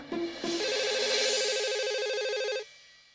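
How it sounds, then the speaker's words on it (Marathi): A telephone ringing at night in a home: an electronic ringtone with a couple of short tones, then a sustained warbling trill that stops abruptly, leaving a fading tail. "एवढ्या रात्री कोणाचा फोन आलाय?"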